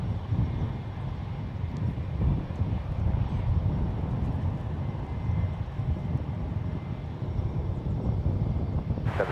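A KLM Boeing 777-200ER heavy jet landing on runway 28 left at San Francisco airport, a deep sustained engine roar with wind rumble, steady and fairly loud throughout without voices.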